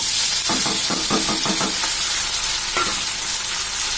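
Onion, tomato and ginger-garlic paste sautéing in a pan sizzle continuously, with a run of quick spatula scrapes and stirs early on and one more stroke later.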